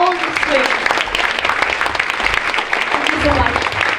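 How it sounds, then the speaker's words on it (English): An audience at a school spring arts night applauds the student performers, a loud, dense burst of clapping close by, with voices calling out over it at moments. "let's have another round of applause for all of the students."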